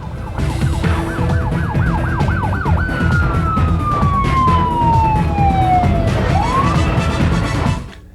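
An LAPD emergency vehicle siren approaches from ahead, starting with quick yelping cycles that stretch into a long, steadily falling wail and a brief rising sweep. It stays loud and prominent over continuous traffic noise until it drops away at the end.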